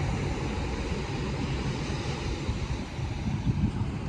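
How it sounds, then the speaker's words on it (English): Ocean waves roll onto Los Corrales Beach in Punta Cana, Dominican Republic, as a continuous, dense wash of surf mixed with wind rumble, close and steady throughout with no talking. "This is Los Corrales Beach here,"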